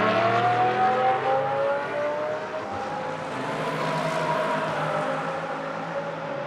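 A WRT Audi race car engine in free practice on a Moscow circuit, a loud, sustained engine drone with shifting pitch as the car runs close by, with no talk.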